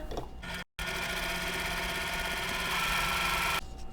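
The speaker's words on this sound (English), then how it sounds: "I'm going to sew the other square the same way, making sure it's lined up right in the corner" A sewing machine stitches a quilt block square, running as a steady close whir for about three seconds after a brief stop. There is no talking.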